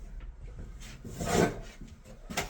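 A scraping, rasping stroke of a drywall knife spreading joint compound over a drywall joint, swelling briefly in the middle, with softer scrapes before and after.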